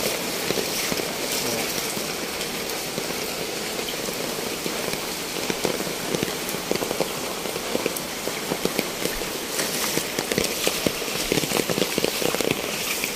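Heavy rain pours steadily onto surfaces around a flooded home, a dense, continuous hiss with scattered louder drop impacts throughout and no talking.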